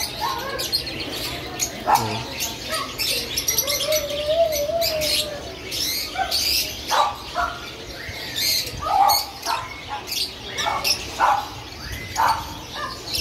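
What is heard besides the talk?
birds chirping in pet shop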